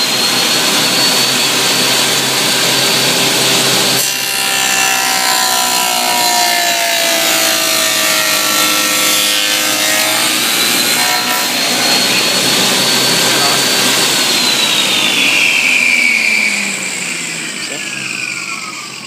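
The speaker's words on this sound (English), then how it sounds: "So I'm going to cut the groove here and leave the tongue" A power saw cuts a groove for a finger joint into a wooden board for a bee hive box. It makes a loud, continuous whining rip whose pitch sweeps as the blade loads, then eases off near the end.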